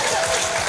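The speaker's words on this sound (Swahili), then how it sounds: "Jamani mpigieni makofi mengi sana" Brief burst of audience clapping at a Swahili church gathering, steady and dense for under a second.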